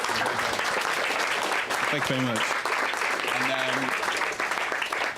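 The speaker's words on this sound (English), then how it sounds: "Round of applause," An audience applauds steadily at a journalism talk on data skills, a dense roar of clapping that lasts the whole stretch while a nearby voice speaks briefly over it.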